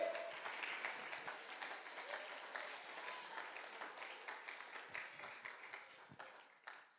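An audience at a church men's congress claps together in sustained applause that gradually fades, moderately distant and filling the room.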